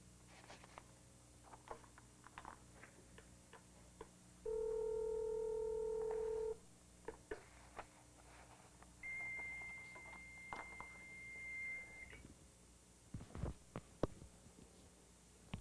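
Two bursts of steady electronic tones from a modem dialing a phone number, one low and sustained, then a higher single tone, over faint background hum with scattered clicks.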